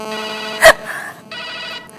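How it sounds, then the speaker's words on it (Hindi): A telephone rings with a bright electronic trill in two short bursts separated by a sharp knock, close and clear with no talk over it. "देखो फोन पे फोन आ रहे हैं"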